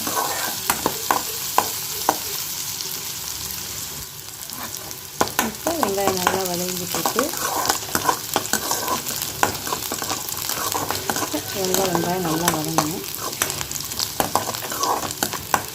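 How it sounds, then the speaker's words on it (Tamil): Chopped onions sauté in hot oil in a pan after mustard seeds have spluttered, part of a carrot poriyal: a steady, close sizzle broken by repeated scraping stir strokes, with faint tonal sounds in the background. "இப்போ கடுகு பொரிஞ்சிட்டு வெங்காயத்தை சேர்த்துக்கலாம் பாருங்க வெங்காயம் நல்லா வதங்கட்டும்"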